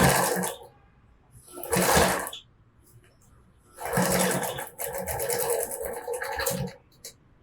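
A sewing machine stitching a seam on a handmade bag, running in two short bursts and then a longer steady run, with someone speaking Spanish in between.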